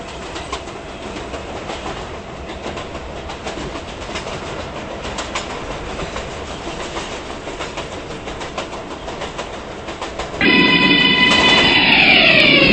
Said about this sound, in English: This is a Manhattan-bound 6 train.